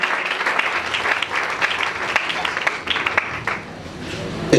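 Congregation clapping in a church service: dense, sustained applause fills the whole stretch, steady and fairly loud, with faint voices mixed in beneath the claps.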